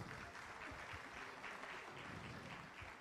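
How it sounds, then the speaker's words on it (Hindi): An audience at a political gathering applauds, a dense continuous patter of many hands clapping at low level for the whole stretch. "जोरदार तालियां बजाओ भाई"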